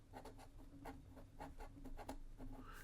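A Pelikan Graphos technical fountain pen with an A6 nib writing on paper, giving soft, faint scratchy strokes in an uneven rhythm, close up, with no talking.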